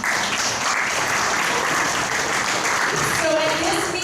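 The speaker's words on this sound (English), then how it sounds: "Give yourselves a round of applause" Meeting audience in a crowded room breaking into sustained applause, a dense wash of clapping that holds steady for several seconds, with voices mixed in toward the end.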